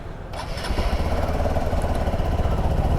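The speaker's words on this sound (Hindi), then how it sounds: "तो अभी आपको इंजन का आवाज़ सुनाते हैं अच्छे से" A freshly rebuilt motorcycle engine catches and settles into a steady, fast-chugging idle, close and continuous with a rough mid-range putter and no talking.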